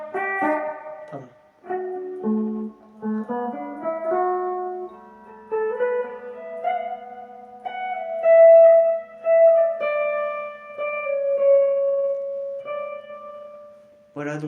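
Clean electric guitar notes played melodically, single lines and sustained tones ringing out with a noticeable reverb tail, no voices.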